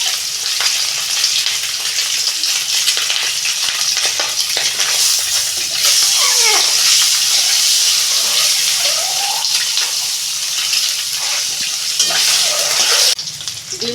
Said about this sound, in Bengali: তেল গরম হয়ে গেছে, ডিমটা ভেজে নিচ্ছি।